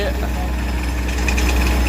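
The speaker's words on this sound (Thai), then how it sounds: "มีปั๊มลมนะแอร์แมนแล้วก็เครื่องเจาะครับ ในเซตนี้" An Airman air compressor and well-drilling rig engine run at a steady idle at a groundwater borehole site, giving a close, continuous low droning rumble with faint voices over it.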